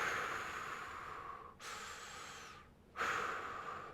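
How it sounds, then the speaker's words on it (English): Slow, deep diaphragmatic breaths during a core stability exercise, heard close up as long airy inhales and exhales with a brief pause between them and no talking. "Now I'm just going to breathe."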